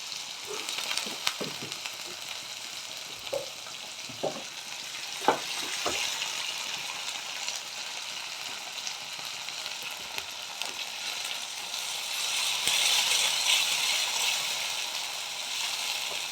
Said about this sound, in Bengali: তো একটু ভেজে নেব